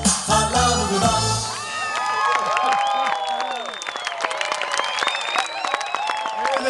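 Enthusiastic audience applause and cheering at a Shavuot celebration in Ein Zivan, with loud clapping at first that continues under excited children's shouts and a voice speaking over the crowd.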